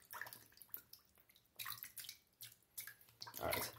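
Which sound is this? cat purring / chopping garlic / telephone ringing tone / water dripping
water dripping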